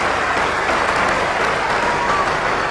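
A big cricket crowd applauds a well-timed shot by Waugh, steady and loud clapping filling the ground throughout with no pause.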